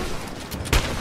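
Shotgun fire in the PC game Rise of the Tomb Raider: one short, punchy blast near the end over a low, steady game background.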